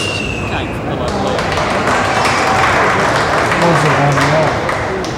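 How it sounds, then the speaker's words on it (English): A large crowd at a sports finals applauds in a dense, continuous wash of clapping, loud and sustained throughout. "There was a large and vocal crowd on hand today"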